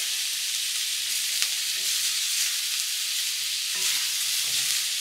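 White onions frying slowly over a low gas flame for masala prawns give off a steady, close sizzle and hiss, broken by an occasional faint scrape of stirring and no talk.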